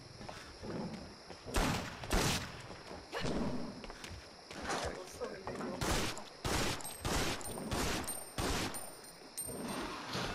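Gunfire in the Resident Evil Outbreak video game: a string of sharp, separate shots spaced through roughly ten seconds, fairly quiet overall, with some game sounds between them.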